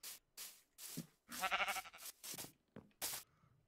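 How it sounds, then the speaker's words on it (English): Sheep bleating in the video game Minecraft, a series of short nasal bleats with brief gaps between them, fairly clear and close with no talking over them. "This is a damn sheep."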